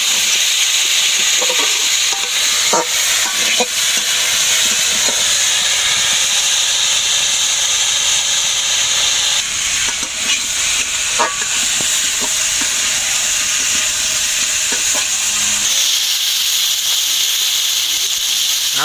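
Food sizzles and hisses steadily in a hot pan while it is being stirred, with occasional sharp scraping clicks of the spoon. The sound stays loud and continuous throughout.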